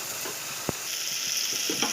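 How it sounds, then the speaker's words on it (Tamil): Onions or other aromatics sautéing in a hot pan for a home-style potato curry, giving a steady close frying sizzle with a few light stirring clicks and no talk. "நல்லா வதக்கிக்கோங்க."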